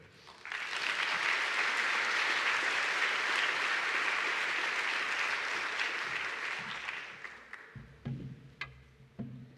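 An indoor plenary audience at a conference applauds to welcome a presenter. Dense, sustained clapping swells quickly, holds for about six seconds, then thins out into scattered claps and room noise.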